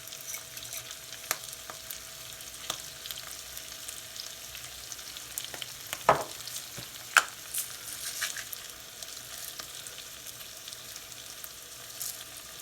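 Half-cooked mushrooms frying in a pan as whole spices are added, a low steady sizzle with occasional sharp clicks and taps from utensils, nearby and without talk.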